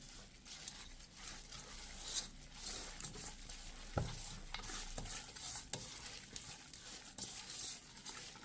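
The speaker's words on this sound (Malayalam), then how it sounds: "ഇതിന് ശേഷം നന്നായിട്ട് മിക്സ് ചെയ്യുക." Chicken barbecue marinade mixed with rock salt, heard as close, continuous wet stirring and squelching with occasional scraping knocks against the bowl, steady and alone without voices.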